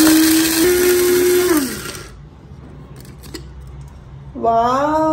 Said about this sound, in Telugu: మనం ప్లగ్ ఆన్ చేసి స్విచ్ ఆన్ చేయగానే దీన్ని ఇలా ప్రెస్ చేసి పట్టుకుంటే గ్రైండ్ అయిపోతుంది